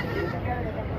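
Sheep bleat at a busy country chicken and livestock market, with crowd chatter and market babble filling the background throughout the short moment.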